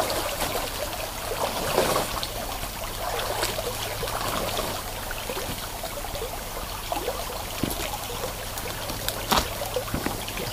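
Water trickles and burbles steadily in a muddy, rain-swollen mountain stream close by, with occasional splashes and knocks as a container dips in to collect water.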